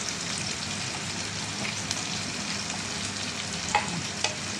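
A mackerel fish curry bubbles and sizzles in a pan while it is stirred and mixed. The frying hiss is steady and close, with a few faint clinks and scrapes from the utensil, and no one talks.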